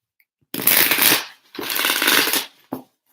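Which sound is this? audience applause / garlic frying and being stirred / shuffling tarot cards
shuffling tarot cards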